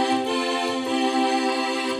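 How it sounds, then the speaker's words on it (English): Strings section on an ARP Quadra synthesizer: a steady, rich sustained chord held evenly at moderate loudness, with no talking. "So with your ARP Quadra and your ARP Omni, you have strings that sound like this."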